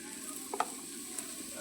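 Food sizzles quietly in a pan on a home stove, with a soft, steady crackle and a few light stirring taps.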